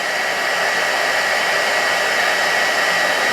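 A GHD Duet wet-to-dry hair styler blows hot air with a loud, steady, even whoosh that stays close and unbroken, with no voices over it.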